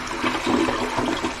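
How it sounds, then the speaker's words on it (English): A household toilet flushes after repair with a new flapper and handle, a steady rushing swirl of water that stays fairly loud and even for the whole short stretch, with no talking over it. "Give it a flush."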